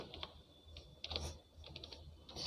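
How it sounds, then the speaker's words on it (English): Keys on a computer keyboard clatter in quick irregular bursts of clicks, close and fairly quiet, during a children's computer class lesson, with no voices. "So I am typing here."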